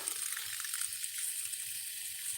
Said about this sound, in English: when you put your finger over the end of the hose